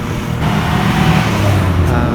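Steady roadway traffic near Cebu IT Park, a continuous low rumble of car and truck engines passing close by, filling the whole stretch without pause.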